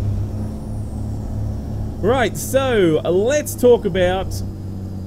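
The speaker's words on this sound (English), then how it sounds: "it's telling me that the truck is very noisy." A Volvo race truck engine rated at 2400 hp in American Truck Simulator gives a steady low drone that rumbles throughout, with someone talking over it in the second half.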